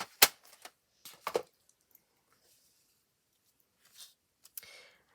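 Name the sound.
watercolour pencils being put away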